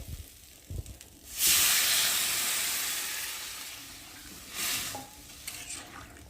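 Lentils with potato and papaya are stirred after water is added, making a loud hiss of steam that surges and slowly fades, then briefly swells again, with faint clinks of the spoon in the pot.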